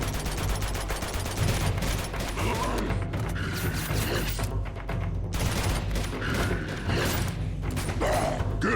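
Gunfire in Uncharted 2: Among Thieves: a steady, dense stream of automatic shots with mechanical clatter over a constant low rumble, fairly loud and continuing without a break. No one speaks.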